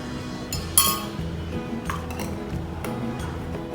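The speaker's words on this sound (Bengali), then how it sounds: "এখন আমি ভালো করে এটাকে নেড়ে মিশিয়ে নিলাম।" A spoon clinks and scrapes against a glass while stirring chocolate bubble tea, with a sharp ringing tap near the start followed by softer repeated clinks close up, no talking.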